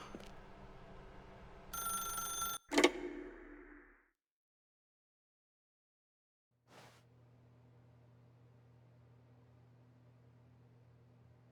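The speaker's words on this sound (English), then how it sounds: "If you can truly place your faith in another, then pick up the phone." A telephone rings in The Stanley Parable, a short bright bell burst followed by a sharp click, then silence and a low steady hum.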